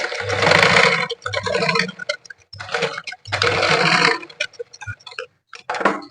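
A sewing machine stitches a blouse in short bursts of rapid mechanical clatter, close and fairly loud, with brief pauses and small clicks between the runs. No one speaks.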